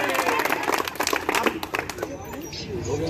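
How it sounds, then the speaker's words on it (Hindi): At a prize distribution ceremony for a local team in Allahabad, an audience claps in a dense burst that fades over about three seconds, with crowd chatter and speech mixed in. "ताली बजाइए भाई सेलेक्टर"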